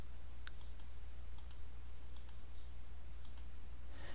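Computer mouse clicks sound in small pairs as the scrubber moves in the VSDC video editor. The clicks are crisp and faint over a steady low electrical hum, spaced about a second apart.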